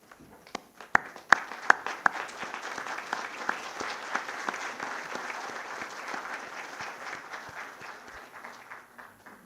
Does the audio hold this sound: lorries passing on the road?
no